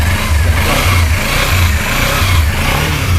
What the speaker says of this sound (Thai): อันนี้เสียงท่อนะครับ